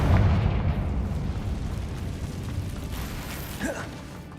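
Magical Confringo fire-spell explosion in Hogwarts Legacy. A deep, close boom opens the clip and rumbles away over several seconds, and a brief whooshing sweep follows near the end.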